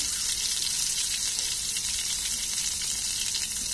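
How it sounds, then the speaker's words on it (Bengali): Eggplant pieces lightly frying in oil for achari begun, a continuous even sizzle and bubbling crackle, close and moderately loud, with no voices. "হালকা ভেজে নেব, এভাবে ভেজে নেব"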